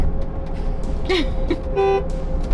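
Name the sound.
high-pitched electric SUV horn honk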